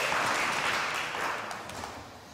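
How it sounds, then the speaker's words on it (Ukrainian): An audience at a ceremony honouring young rescuer heroes, attended by the president and his wife, claps in a dense sustained round of applause that fades slightly toward the end. "І ще раз давайте підтримаємо оплесками."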